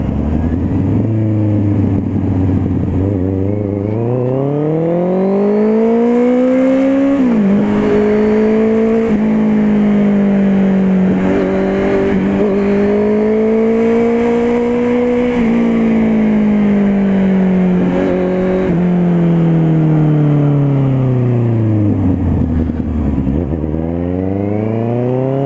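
A Honda CB650R four-cylinder motorcycle fitted with a sport exhaust accelerates through the gears, a loud, close exhaust wail rising in pitch, falling sharply at each shift, then easing off and climbing again near the end.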